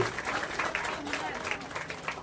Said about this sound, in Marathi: टाळ्या वाजवूयात सीए मॅडम साठी.